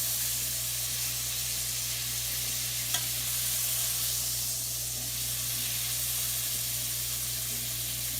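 A venison loin sears in a skillet with a steady, close, even hiss and sizzle throughout, under a faint low hum and one small click, with no talking.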